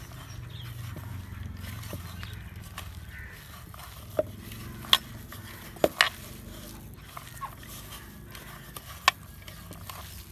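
Gram flour is mixed into cauliflower pakora batter: quiet, wet stirring under a low background hum, broken by occasional sharp clicks and taps of the utensil.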